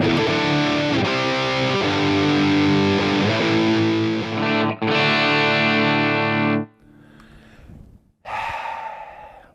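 A Line 6 Pod Go running a Rectifier amp preset gives heavy distorted electric guitar as a sustained thick chord, briefly cut, then ringing on before choking into noisy feedback-like bursts, loud with no talk.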